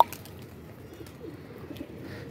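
Pigeons outdoors in Lahore, Pakistan, on a loft being readied for high-flyer training, give soft, low, murmuring coos at moderate distance, steady and without talk.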